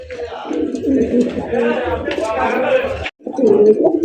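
Fancy racer gola pigeons coo in low, throaty bursts close by, a steady murmuring run that pauses briefly near the end before resuming, with someone talking over them.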